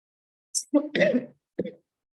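A man coughs and clears his throat in a quiet room: one short cough, a longer rough throat-clearing burst, then a final brief cough, close and fairly soft.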